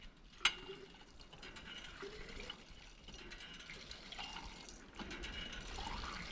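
Water runs steadily from a tap with a soft splashing hiss, close and fairly quiet, after a brief sharp clink at the start.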